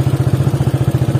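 A motorcycle engine chugs steadily at low revs with a fast, even pulse, loud and close, as the bike rides a rough, unpaved road through a hill village in the Devchuli area of Nepal.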